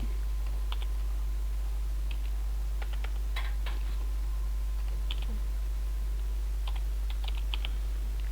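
Keys clatter in scattered bursts as someone types on a computer keyboard nearby, with pauses between clicks over a steady low electrical hum.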